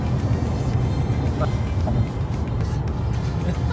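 A car driving itself with driver assist engaged through a gentle curve on the road, a steady loud road and engine rumble filling the cabin throughout.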